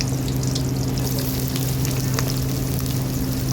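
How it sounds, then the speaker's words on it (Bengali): Sliced onion sizzles in hot oil that was just used to fry potatoes. The frying hiss is steady and close throughout, with a low constant hum underneath. "এই ভাজা তেলের মধ্যে দিয়ে দিচ্ছি পেঁয়াজটা"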